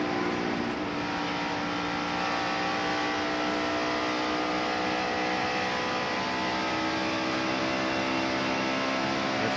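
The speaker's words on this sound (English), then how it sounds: "Now as he drives up on the bank, he'll shift in the fourth gear." 1992 NASCAR Cup race car at the Hooters 500, its V8 engine screaming at steady high revs on the banked track, loud and continuous with many layered harmonics.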